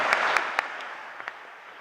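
Audience at a Democratic gubernatorial candidate debate applauding, a burst of clapping with a few sharp individual claps standing out before it tapers off quickly.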